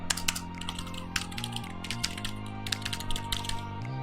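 Rapid clacking keystrokes from a budget wireless mechanical keyboard, close and steady, with a faint tonal hum running underneath and no voices.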